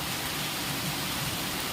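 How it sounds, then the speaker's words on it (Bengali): Heavy rain pours down in a dense, loud, continuous hiss close by, with no voices or breaks. "বন্ধুরা দেখেছেন কি ভয়ঙ্কর বৃষ্টি হচ্ছে।"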